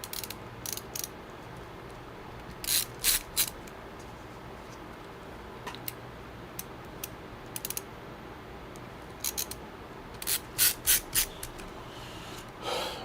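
Screws being driven into a PC case fan, short clusters of faint clicking ratchet-like ticks spaced out over a quiet hiss, no voices.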